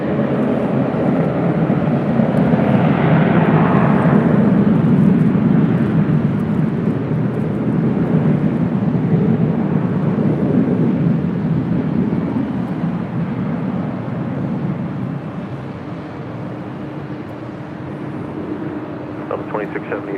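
A Southwest airliner takes off from runway 24 left at LAX, its loud jet roar swelling and then slowly easing off, with indistinct voices faintly underneath.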